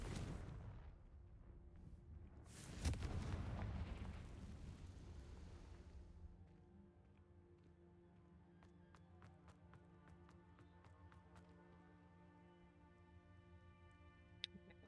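A Confringo fire spell explosion in the video game Hogwarts Legacy: a loud, low rumbling blast that swells and slowly fades over several seconds, followed by quieter game ambience with faint chiming tones.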